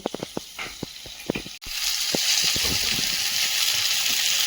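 Eggs frying in a pan for an egg and potato curry: a few light taps, then a loud, steady, close sizzle that starts abruptly and keeps hissing to the end.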